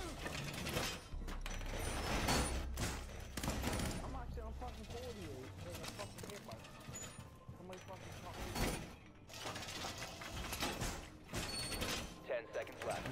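Gunfire from a Rainbow Six Siege match: several loud, sharp bursts of shots spaced a second or more apart over busy game noise, with someone talking through much of it.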